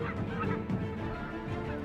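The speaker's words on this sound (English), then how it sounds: "The geese begin their escape to the south." Migrating geese honk in the Arctic in late summer fog, a flock calling repeatedly in overlapping, uneven honks at moderate distance.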